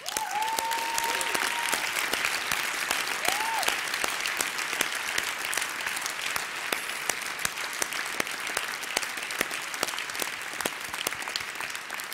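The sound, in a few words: audience applause at the end of a conference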